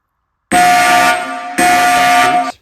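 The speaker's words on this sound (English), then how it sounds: "I will ring out the alarm" Two loud, sustained horn-like alarm blasts sound in a solitaire naval board game, each about a second long with a brief gap between them, harsh and buzzing, alone with no speech.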